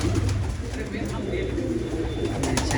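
A flock of feeding pigeons in a loft keeps up a steady, close, murmuring coo over a dense background of shuffling and rustling.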